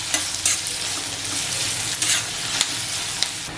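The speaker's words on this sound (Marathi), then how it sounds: "बघा कांदा मस्त असा फ्राय झालेला आहे" Sliced onions frying in oil in a pan for Maharashtrian onion chutney, giving a steady close sizzle broken by brief stirring scrapes.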